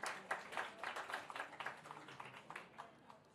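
A conference audience gives a brief round of applause, a faint, steady patter of many hands clapping in a hall with no voices over it.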